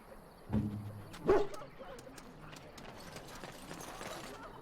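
Dog barking in the fantasy role-playing game Dragon Age: Origins: two short, fairly close barks about a second apart, followed by quieter game ambience with light clicking.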